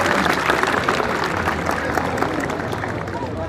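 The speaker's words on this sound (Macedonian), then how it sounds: "Може ли аплауз?" An audience at a graduation evening for the final-year students of SOU Naum Naumovski Borche in Probištip gives a continuous wash of applause. It holds steady, mixed with faint crowd murmur, then eases slightly toward the end.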